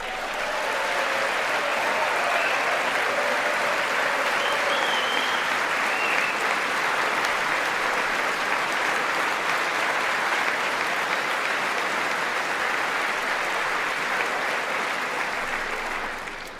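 Sustained applause fills the chamber at the 2019 State of the Union, a steady broadband roar of many hands clapping at once, loud and unbroken for the whole stretch before tailing off slightly at the end.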